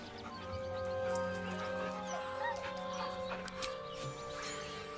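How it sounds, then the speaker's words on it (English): A nervous dog whimpers in soft, high whines that come and go over a steady low background hum, with a few faint yips mixed in. "The dog whimpers nervously"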